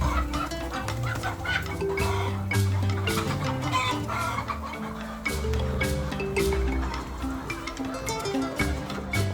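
Commercial laying hens on a large egg farm cluck in a dense, continuous chorus, close and loud, with overlapping calls throughout.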